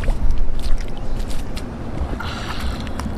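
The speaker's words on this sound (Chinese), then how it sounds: "放水里洗一洗。" Catch from a low-tide seashore foraging trip, octopus and sea snails, being rinsed in seawater: a continuous rushing, sloshing splash with bursts of gurgling water, fairly close and steady, with no voices.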